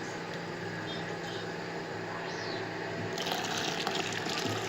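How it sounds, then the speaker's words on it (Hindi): Water poured into gram flour batter for kadhi pakora, a steady close splashing and gushing stream that swells louder toward the end, with a voice speaking over part of it. "ये इसके अंदर हमने पानी शामिल कर दिया।"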